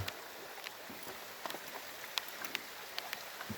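Light rain falling outdoors in the afternoon, a steady soft patter with scattered sharper drops hitting a surface, faint and continuous with no talking.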